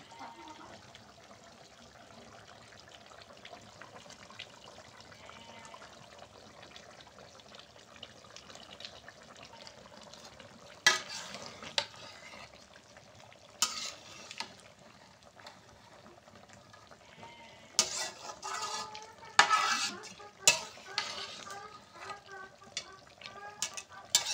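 Food is stirred and cooked in a pot on one of two stoves in a village kitchen. A faint, low cooking hiss is broken by several close bursts of scraping and clattering later on.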